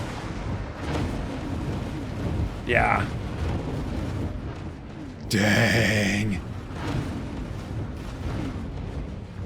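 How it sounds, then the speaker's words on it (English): A massive cylindrical ship explodes in the video game X4: Foundations, a loud roaring blast lasting about a second amid a continuous rumbling game soundscape, with a brief earlier whoosh and a person speaking briefly. "Explosion imminent."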